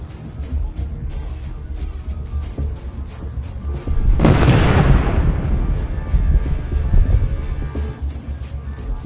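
A single heavy explosion as an RPG hits a Russian armored vehicle, a sudden loud boom that rolls and fades over several seconds amid rumbling battlefield noise.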